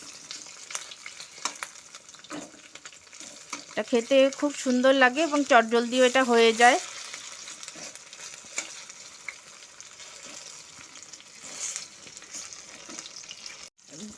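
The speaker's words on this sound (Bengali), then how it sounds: "এই বেগুনের পিসগুলোকে আমি উল্টে পাল্টে একটু ভাজা করে নেব।" Eggplant pieces being turned and fried in oil over medium heat, a bright sizzling burst lasting a few seconds mid-clip, with someone talking before and after it.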